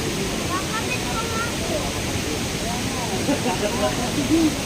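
Mother Falls in San Luis, Baler pours in a constant, full rush of white-noise water, loud and close, while faint voices murmur underneath.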